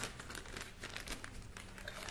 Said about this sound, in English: this is a handy way to get all of these tortilla chips crushed